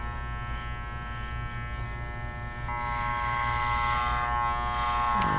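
Electric hair clippers with an adjustable open-face guard cut hair against the grain during a bald fade on a child, giving a steady close buzz that grows slightly louder and brighter halfway through, with no talking.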